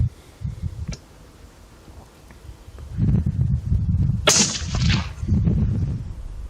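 A rifle fires at a prairie dog in a backyard with a single sharp, loud crack, preceded by low handling rumble and followed by a brief bright ring.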